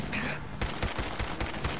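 Rapid gunfire in the video game Fallout 4, a quick string of evenly spaced shots in a steady rhythm, loud and close with no talk.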